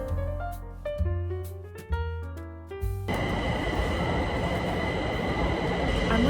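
A short run of musical notes gives way to the loud, continuous rumble and roar of a train in Taiwan, heard from inside the carriage as it runs along the track.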